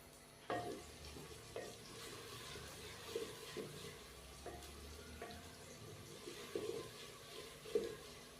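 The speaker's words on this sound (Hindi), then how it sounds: "प्याज को हम लाइट ब्राउन कर लेंगे" Chopped onions cooking to light brown in a pan for a green chickpea and potato curry, with soft sizzling, stirring scrapes and a few sharper clinks through a quiet stretch, plus a brief run of tap water.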